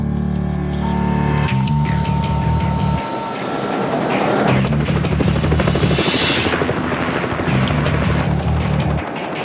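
A naval helicopter lifts off on a Gulf of Aden counter-piracy patrol, its rotor thumping in a loud, steady rhythmic pulse over a whining turbine, close and continuous throughout.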